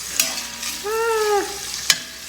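A dish is stirred in a hot pan during meal prep: steady sizzling frying with spoon scrapes, a short squeaky tonal scrape in the middle and a sharp clack near the end, close and fairly loud, no talking.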